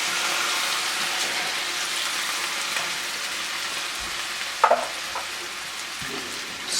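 Noodles get stirred into sauce in a hot pan, a steady close sizzle broken by a few sharp scraping knocks of the utensil against the pan partway through.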